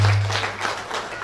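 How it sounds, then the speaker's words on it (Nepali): Applause from the audience at an eighth anniversary ceremony, a dense burst of clapping that starts loud and gradually eases off over the short stretch. "ताली बजाएर।"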